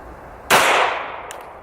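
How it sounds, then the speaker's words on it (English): A 9mm pistol fires a full metal jacket round into a solid lead block, a single sharp loud crack followed by a short decaying ring, alone with no talk. "9mm out of my Slovenian pistol. This is a full metal jacket."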